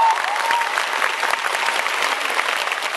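A crowd at a summer outdoor music festival claps loudly and steadily for a few seconds, a dense wash of applause with no talking.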